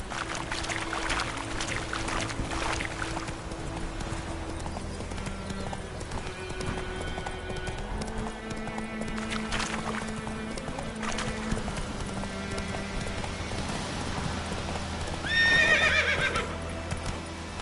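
A horse gallops with steady rhythmic clip-clop hoofbeats in The Witcher 3, continuous and close, with a neigh and some splashing near the end, no talk.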